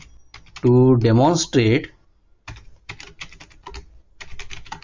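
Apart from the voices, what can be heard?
typing a comment on a computer keyboard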